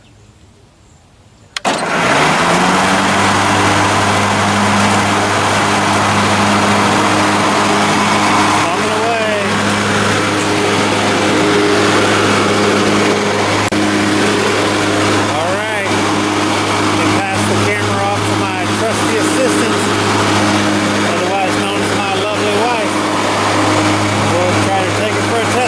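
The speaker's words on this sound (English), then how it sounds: "test the mower deck." Remote control riding lawn mower starts up and its engine and mower deck run with a loud, steady droning hum, the pitch wavering slightly; a person talks briefly over the noise.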